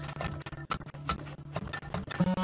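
Horses clip-clop in the video game Turmoil, a steady, fairly loud run of rhythmic hoof clops with no talk over it.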